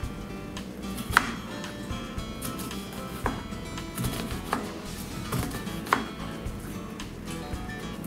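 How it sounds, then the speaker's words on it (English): An onion being cut with a kitchen knife, irregular crisp chops and taps against a board, close and moderately loud over a busy room background. "Now we're going to start with cutting the onion."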